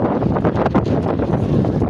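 Steady, blustery sea wind buffets the microphone on a fishing trip, a continuous low rumble with gusty swells throughout and no voices.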